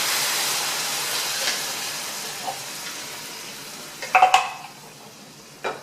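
Food-processed whole canned tomatoes go into a hot pan: a steady broadband sizzle fills the clip, with a louder burst of splashing and spattering near the end as the pulsed tomatoes hit the surface.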